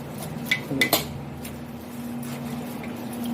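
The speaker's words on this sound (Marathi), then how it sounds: "हे पानं ना आपण धुवून घेणार आहोत चांगली स्वच्छ" A few short clinks and splashes as neem leaves are washed in water in a metal pot, then a quiet steady hum.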